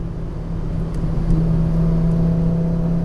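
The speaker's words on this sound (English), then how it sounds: "Even in fourth gear, plenty of response." A 2004 Volvo S60 accelerating in fourth gear, heard as a steady, low engine drone that builds slightly and holds, loud and close from inside the car, with no talking.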